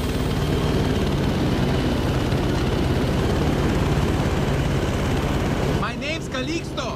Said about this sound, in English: But I don't think we're going to be shooting while we're in the chopper,